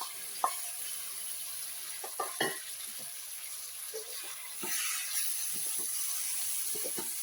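Bilimbi pieces sizzle in hot oil with chilli powder and asafoetida for a pickle, a steady hiss broken by occasional stirring knocks and clinks, close and moderate, with no voices.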